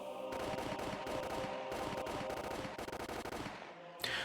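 Bursts of automatic weapon fire ring out in rapid, rattling volleys with brief gaps between them, loud and close. The scene is from the Higurashi visual novel, and the shooting ends in a sharp final crack with no talking.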